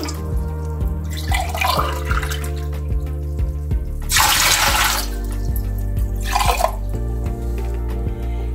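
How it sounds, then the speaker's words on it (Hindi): Water poured into a cooking pot for homemade chicken stock cubes, two bursts of splashing pouring over a steady background hum with small drips and clinks, no talking. "पानी जाएगा, एक लीटर पानी का जाएगा।"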